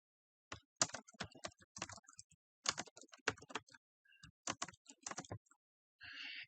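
A company name and address are typed on a computer keyboard in close, quick bursts of keystrokes with short pauses, ending in a brief softer rustle.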